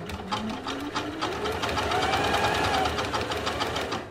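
A sewing machine stitching fabric onto elastic, a fast steady mechanical whir with a slight rise in speed, close and continuous, with no talking.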